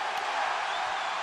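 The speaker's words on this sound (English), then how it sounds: "What a roar from this Sold out crowd." A sold-out arena crowd at a UFC fight roars in a steady, loud, broad wash of cheering that holds for a moment with no break.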